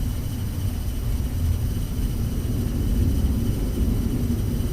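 An Alaska Airlines A320 rolls out after landing at Juneau with reverse thrust, a steady, dense rumble and rush of engine and airflow heard from inside, continuous with no talk.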